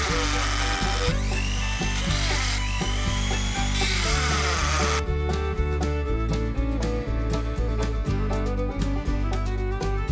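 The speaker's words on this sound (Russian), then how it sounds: "засверлим отверстие" A power drill whines loudly and steadily while drilling a hole outdoors, its pitch shifting as the bit works through the material, with no voices.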